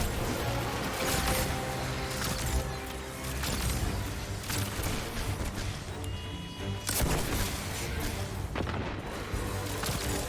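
Rockets fired from a rocket launcher in Destiny 2 burst in repeated booming explosions over a dense, continuous layer of game music and weapon noise, loud throughout.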